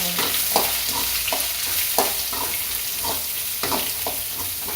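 Beetroot sautés for a Tamil beetroot poriyal in a pan with onion, giving a steady close sizzle. A spoon stirs and scrapes in a regular rhythm about every half second.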